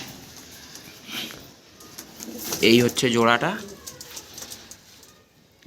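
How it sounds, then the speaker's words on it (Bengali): Madras and Giribaz pigeons coo in soft, throaty bursts while someone talks nearby, the cooing rising briefly in the middle. "খুব রেজাল্টেড পায়রা, একদম এই 1 নম্বর কোয়ালিটির"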